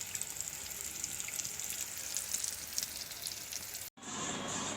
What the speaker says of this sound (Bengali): আর এই যে মাছ ভাজা।